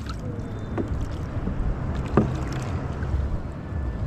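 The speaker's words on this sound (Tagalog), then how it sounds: "Lakas ng alon" Strong wind and rough waves buffet a small boat out at sea at night, giving a constant rushing roar with low rumble and a few knocks against the hull, and nobody talks.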